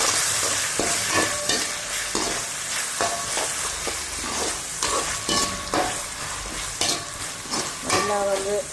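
Ginger paste frying in a pan while a spoon stirs it: repeated scraping strokes against the metal over a constant crackling sizzle, close and fairly loud, with no talk.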